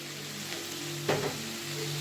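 Grated potatoes frying in oil in a skillet for hashbrowns, making a steady close hiss and sizzle with a brief louder burst midway and a low background hum.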